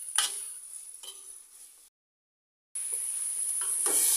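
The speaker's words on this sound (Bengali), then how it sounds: "আরও কিছু সময় ভেজে নিতে হবে।" Bottle gourd frying with sugar in a pan for a milk-gourd dish, giving a soft steady sizzle with occasional spatula scrapes and stirs, close and alone, briefly cut to silence midway.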